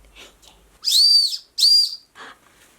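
Two short, shrill whistle blasts close by, each under a second, with faint rustling before and after.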